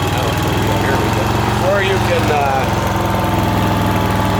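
Engine of a Dixon Pro ZTR2300 zero-turn mower running steadily with a loud, close, continuous throbbing drone, while someone talks over it.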